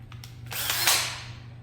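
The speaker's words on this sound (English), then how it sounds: "a drill" A handheld power drill whirs up and runs briefly in a workshop while assembling parts for a high-power model rocket, a steady whine rising and fading close by, with no one talking.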